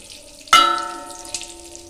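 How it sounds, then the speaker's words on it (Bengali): Bay leaf, small cardamom and cinnamon dropped into melted butter for a chicken stew, a sharp metallic clang as the spices hit the pan, then a fading sizzle with a second light clink, no talking. "তেজপাতা দিয়েছি, 2টো ছোটো এলাচ দিয়েছি, আর একটা দারুচিনি ফোড়ন দিলাম।"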